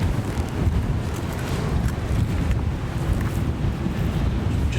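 Steady, heavy wind buffets the microphone outdoors beside a stone Iron Age broch at Clachtoll on an exposed coast, a continuous low roar with gusty swells and no voices.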